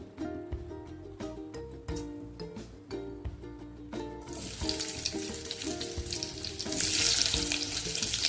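A few metallic clinks, then chopped onion drops into hot oil in a kadhai and sizzles, the hissing swelling louder and staying strong to the end.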